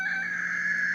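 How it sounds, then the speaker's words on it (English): A rooster crows as a short sound effect, one loud sustained, tonal call held evenly for just under a second. "like a rooster crowing"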